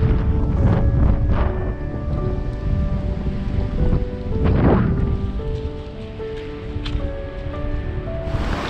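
Rain falls on the Queen Charlotte Track in New Zealand, a dense, steady patter on leaves and ground with running creek water beneath, close and continuous with no voices.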